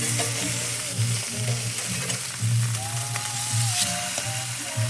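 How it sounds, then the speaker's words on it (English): A piece of salmon sears on a cast iron pan at maximum heat, giving a loud, continuous close-up sizzle with a low rhythmic hum and occasional faint clinks. "Sear the sides on this second piece."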